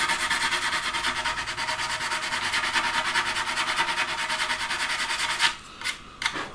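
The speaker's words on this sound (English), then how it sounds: "Quite a coarse sanding stick, just to cut through the super glue" Quick, rhythmic back-and-forth strokes of a coarse sanding stick rasp against hardened super glue on a plastic model kit, close up, then stop with a few final scrapes.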